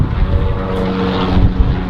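Helicopter flying over a city rooftop, a loud, steady, close engine drone with low rotor rumble that fills the whole stretch with no talking.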